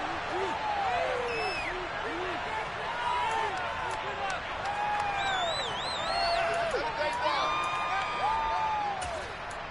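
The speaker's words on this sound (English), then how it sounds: "Plenty of shouts from this crowd as they watch the replay." Stadium crowd at a football game roaring and shouting steadily throughout, a dense wall of voices with whistles and whoops rising above it.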